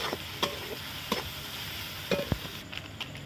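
Ginger, garlic, salt and turmeric sauté in a pan for a fish roll, a moderate, even sizzle with several sharp stirring knocks against the pan.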